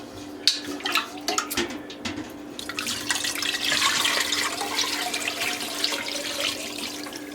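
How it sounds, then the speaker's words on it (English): Homemade chicken stock is poured through a sieve: a few drips and clinks first, then a steady close splashing, trickling stream of liquid that gradually eases off, with no talking. "I can go ahead and just dump the rest of it through the sieve"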